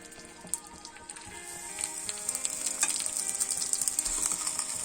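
Steady crackling sizzle of flour-coated lamb shanks frying in hot oil in a pan, with dense popping spatters that grow slightly louder over time; no voices.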